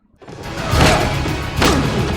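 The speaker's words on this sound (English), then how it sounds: "We're going to see another explosion." A loud video-game explosion booms in after a brief silence, then swells into a second rumbling blast with debris-like crackle, close and heavy throughout.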